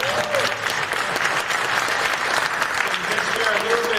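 Sustained applause from an audience, even and continuous for a few seconds, fairly close and loud.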